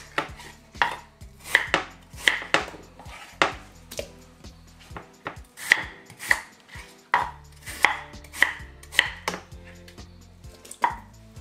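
A knife chops chocho (chayote) on a board for vegetable soup, about twenty crisp, close strikes in an uneven rhythm, with short pauses and no voices.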